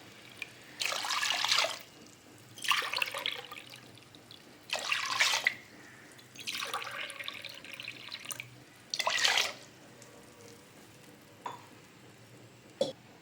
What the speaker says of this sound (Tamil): மறுபடியும் பார்த்திங்கன்னா 2 டம்ளர் தண்ணி, மொத்தம் 3 டம்ளர் தண்ணி சேர்க்கணும்.